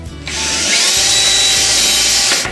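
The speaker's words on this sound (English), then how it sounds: "we're going to take a drill with a 1/8 inch bit, place it on your mark" A power drill with a 1/8 inch bit bores a pilot hole in a living wall panel: a loud, steady whine spinning up and running for about two seconds before cutting off, with no talk.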